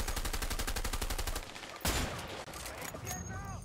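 Rapid bursts of gunfire from the co-op video game A Way Out during a jungle firefight, a steady stream of automatic shots followed by a loud blast, with a voice briefly heard over the shooting.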